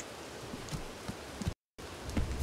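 Steady video game rain hisses and patters softly, with small scattered drops tapping throughout and a brief cut to silence partway through.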